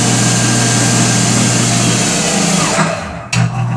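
A 1965 Monarch 10EE lathe motor runs with a steady hum, then winds down quickly under its dynamic brake, ending with a short sharp clunk as it stops; no talking.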